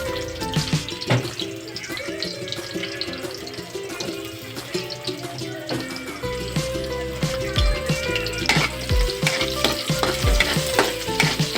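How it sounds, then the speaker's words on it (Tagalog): Garlic and onion sautéing in a pan after fried potatoes and carrots, with a loud steady sizzle, stirring scrapes and clatters, and a brief tap-water splash mixed in, close and without talk. "Pagkatapos nating iprito ang ating patatas at carrots, magigisa na tayo ng bawang."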